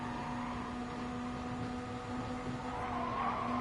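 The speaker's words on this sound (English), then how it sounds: "just a little lift off the throttle there because he is in the turbulent air of Rascal" Race car engine in a racing game at Spa, a steady sustained drone with a faint dip and shift in pitch as the driver briefly lifts off the throttle, heard alone without talk.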